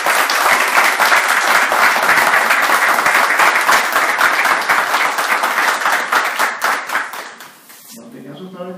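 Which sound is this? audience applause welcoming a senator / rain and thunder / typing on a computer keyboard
audience applause welcoming a senator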